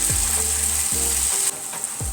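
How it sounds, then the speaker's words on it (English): Vegetable fritters frying in oil in a pan give a steady bright hiss, broken by a few short low thuds and scrapes as the pan is handled. No one speaks. "So these will be fried for another 6 minutes"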